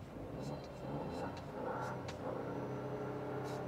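A Citroen Basalt's 3-cylinder engine idles with a low, even, refined hum, heard faintly from inside the cabin, with a few light clicks and rustles over the top.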